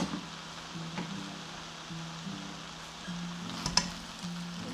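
Mixed fried rice sizzles steadily in a pan, with a few faint scrapes and clicks as it is stirred. No voices.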